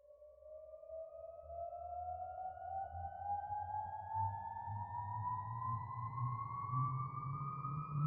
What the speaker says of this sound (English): I've just got the one note rising, and I've got a pitch shifter on it that kind of pushes it up, like up an octave